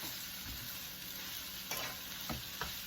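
Black pepper seasoning sautéing in a pan for pulled pork makes a quiet, continuous sizzle, with a few soft stirring scrapes at close range.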